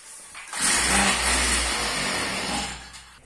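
A small two-stroke engine on a motorized bicycle, running with too much oil mixed into the gasoline, revs up loudly and holds a rough, buzzing high rev for about three seconds after a brief quiet start.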